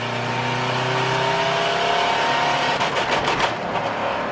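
A Subaru Forester with a check engine light drones steadily as it strains at about 45 mph and fails to go faster, the engine note holding flat and loud before some rattling flutter near the end.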